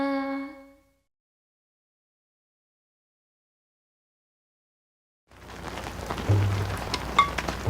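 Rain sound effect in a Marathi children's song: after a sung phrase and a few seconds of silence, steady rain pours in and builds, with a few louder splashes near the end.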